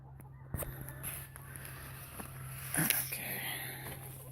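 Chickens kept in a coop call in the morning with a few short clucks and squawks, fairly faint amid rustling and background noise.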